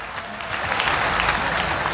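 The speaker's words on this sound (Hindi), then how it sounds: "हमारे सांसद बीडी शर्मा जी के लिए जोरदार तालियां बजाओ" A crowd at a mass wedding ceremony claps loudly for MP BD Sharma, a short dense burst of applause that swells after the first half-second and holds steady.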